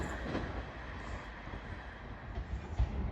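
A Class 323 electric train runs through a station platform at Barnt Green, producing a steady close rumble and rushing wash of wheel and track noise with faint rhythmic clatter throughout.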